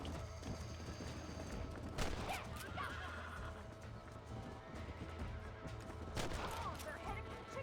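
Gunfire at coyotes in Red Dead Redemption on Nintendo Switch, with several sharp shots over a busy game mix of hoofbeats and mechanical clatter, fairly faint overall.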